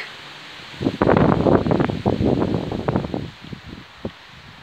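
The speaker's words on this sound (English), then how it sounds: "Bit of a gust there, look." A gust of wind rushes through birch leaves, swelling into a loud rustle for a couple of seconds, then fading to a quiet breeze.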